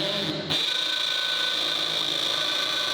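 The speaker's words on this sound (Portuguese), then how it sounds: "Vamos furar uma laje de betão com 50 mm de espessura." Steady, high-pitched whine of a Parkside PSBSAP 20-Li A1 cordless impact drill in hammer mode at speed 2, boring into a 50 mm concrete slab, starting abruptly and running continuously at close range.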